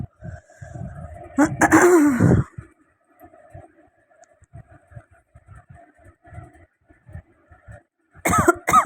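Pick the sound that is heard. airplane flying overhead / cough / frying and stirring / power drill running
cough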